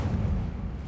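The Incendio fire spell in Hogwarts Legacy erupts as a short, heavy whoosh and low rumbling burst, loud and close, fading slightly over under a second.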